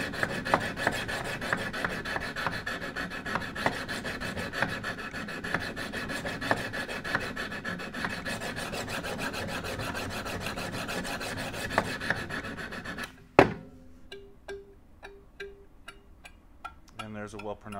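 Steady rhythmic rasping of a knife blade stroked against abrasive stones on a Wicked Edge Gen 3 Pro sharpener, continuous for most of the stretch, then stopping into a few light clicks and taps.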